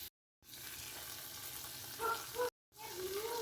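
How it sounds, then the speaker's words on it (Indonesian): Tofu sizzles and crackles softly in a hot pan, a faint steady frying sound broken by brief silences. "Masukkan tahu, goreng sebentar,"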